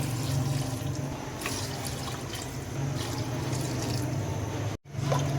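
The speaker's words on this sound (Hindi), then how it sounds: "अब हम इसके अंदर 3 लीटर के करीब पानी ऐड करेंगे।" About three liters of water poured into a cooking pot of browned beef tripe (ojri) with turmeric, heard as a steady, close splashing trickle that cuts out briefly near the end before resuming.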